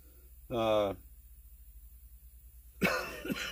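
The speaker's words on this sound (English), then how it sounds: "Getting a lot of the phlegm is thickening up on me, so it's getting harder to cough it up." A single short, harsh cough, then a few seconds of quiet before a rougher, throaty cough or throat clearing at the end, bringing up thick phlegm.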